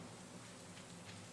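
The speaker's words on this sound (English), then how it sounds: "And it's raining." Steady rain falls in the Stardew Valley video game, a soft continuous patter across the short stretch with no voices over it.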